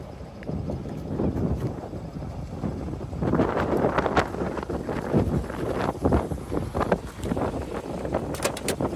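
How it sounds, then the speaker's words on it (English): Wind buffets the microphone in a constant low rumble, swelling in gusts, with no one talking, outdoors beside a 1965 Chevrolet Impala. "It's so windy here today. Sorry about the wind"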